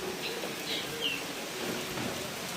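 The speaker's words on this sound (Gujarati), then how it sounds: "અને વાતાવરણ શું છે એટલે ફક્ત પક્ષીઓનો અને વરસાદનો જ અવાજ સંભળાય છે" Light monsoon rain falls steadily on a farm, a soft continuous patter with a few faint bird calls in the distance.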